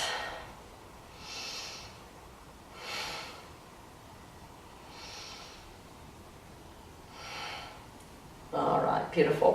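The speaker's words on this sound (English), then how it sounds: "Let's try those 3 breaths" Four slow, deep yoga breaths drawn and released in an even rhythm, each a soft airy swell rising and fading, close and quiet, followed by a brief louder rustle at the end.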